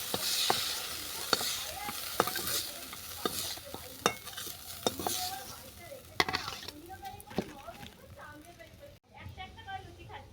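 Moringa flowers frying with vegetables in a pan, loud close sizzling with frequent sharp spatula scrapes and knocks against the metal, stirring continuing throughout before a brief drop near the end.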